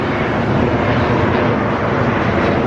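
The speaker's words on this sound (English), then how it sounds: "It's an airplane." An airplane passes overhead as a loud, steady broadband roar that fills the whole stretch without letup, heard outdoors during a walk.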